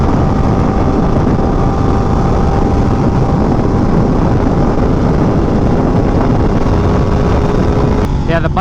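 Steady, loud engine drone and wind roar from a Yamaha R1M sport motorcycle cruising along, the tone holding even throughout with a brief flutter near the end.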